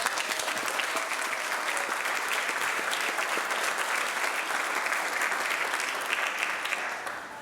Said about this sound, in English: Please give all of our activities a round of applause.